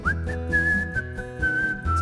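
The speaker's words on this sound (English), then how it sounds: "It's a nice whistle here." A person whistles a sustained, wavering high tune up close over a soft musical backing, with brief pauses between phrases.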